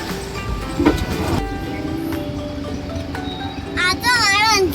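A train rumbles and clatters at Anand railway station in Gujarat, a steady rolling noise with a couple of sharp knocks, near and fairly loud, while a person talks over it.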